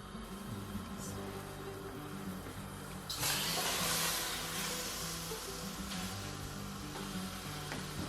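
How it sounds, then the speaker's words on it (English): Chunks of lamb meat searing untouched in a hot pan over high heat give a steady, loud sizzle. The hiss swells noticeably stronger partway through and then settles back to a constant frying crackle. "I'm gonna begin to cook my lamb meat without touching on high heat to seal the meat chunks"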